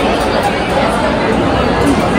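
Dense crowd chatter fills a busy Square One shopping mall, a steady indistinct babble of many voices with people ordering food, loud and continuous throughout.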